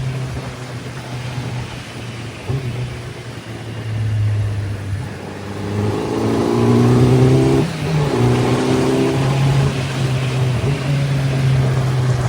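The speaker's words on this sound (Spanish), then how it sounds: "Ahora abrimos aquí, vamos allá, en cuarta, fijar cómo se empuja, metemos marcha y la moto corre." A 2026 Kawasaki Z900 naked motorcycle accelerates hard in fourth gear, its engine rumbling loud and close, then climbing in a rising rev as it pulls, with a steady heavy drone through to the end.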